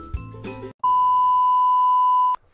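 A game show buzzer pressed during a Jeopardy-style youth pastor trivia game gives one loud, steady electronic tone that holds for about a second and a half, following a brief burst of chatter and laughter.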